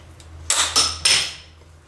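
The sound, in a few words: screwdriver prying out a car strut bearing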